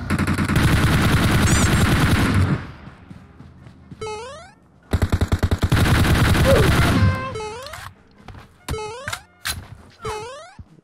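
Rapid automatic gunfire bursts in a shooter video game, loud and close, with long sustained volleys, a pause, then more firing followed by sharp ringing pickup or impact tones and scattered single shots.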